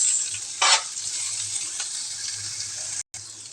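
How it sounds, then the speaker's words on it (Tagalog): Onions and aromatics sizzle steadily in a hot pan, a continuous bright frying hiss with one brief louder stirring scrape, close and alone with no talk. "Igisa lang po natin yan hanggang sa lumabas po yung aroma flavor niya."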